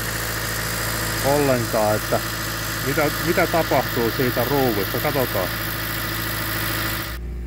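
A Toyota Auris / Corolla E15 engine idles steadily with a low, even drone while someone speaks Finnish over it.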